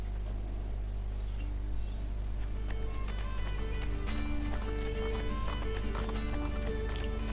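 A horse gallops in Assassin's Creed II, its rapid clip-clop hoofbeats running steadily over a constant low game rumble and music.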